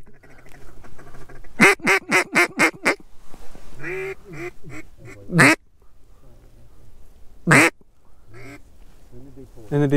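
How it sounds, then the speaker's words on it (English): Mallard ducks quack in a field spread of decoys during a hunt, with a fast burst of loud repeated quacks followed by single calls, mixed with nearby talking. "We got ducks working."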